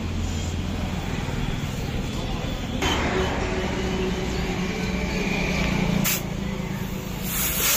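Steady, loud hiss of compressed air being pumped into a tubeless tyre fitted with a tube, continuous for the whole stretch with brief louder bursts as the nozzle shifts, and voices faintly in the background.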